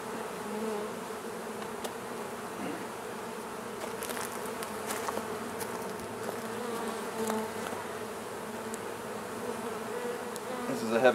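A thick, continuous hum of honey bees flying all over a hive box, close and steady, with a few brief rustles and clicks from handling the equipment.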